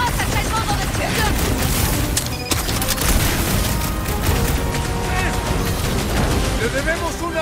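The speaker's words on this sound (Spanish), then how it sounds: "¡Esta masa está en modo de explosión!" Explosions and rapid gunfire from the video game Guardians of the Galaxy boom continuously under a dense, loud mix of game music and effects, with voices speaking over the combat.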